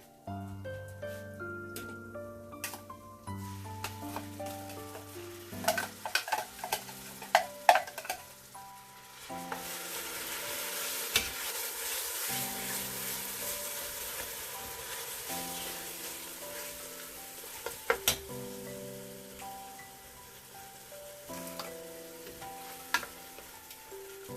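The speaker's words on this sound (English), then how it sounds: "I will put the ginger right now and onion." Ginger and onion frying in cooking oil, a soft steady sizzle that swells midway and sits faintly under a clatter of utensil stirring and clinks, with no talking.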